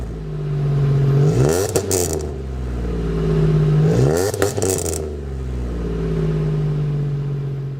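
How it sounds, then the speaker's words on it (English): A Buick GSX with a V6 engine idles close by, then revs hard twice in quick succession, each rev climbing to a raspy, rattling peak before dropping back to a steady idle, with no voices. "As for the sound for the GSX, they don't sound anything like how they once were,"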